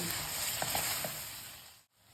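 Chicken pieces frying in hot butter for a creamy chicken pasta, a steady close sizzle with a few light stirring knocks, fading and cutting off briefly near the end.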